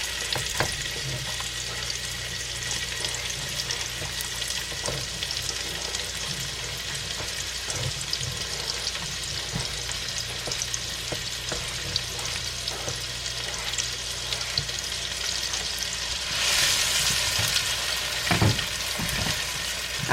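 Onions frying in melted bacon grease in a pan, a steady broadband sizzle running throughout with a few stirring scrapes and a brighter surge of hiss near the end; no talking.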